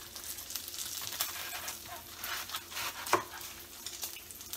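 Bacon fries in a pan with a steady, moderate sizzle and crackle that runs throughout, plus one sharper pop near the middle, with no voices.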